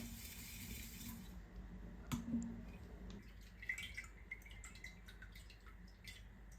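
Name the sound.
plum liquid dripping through a colander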